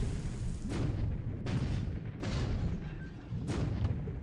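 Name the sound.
ship Castlemaine firing guns in video game War in the Pacific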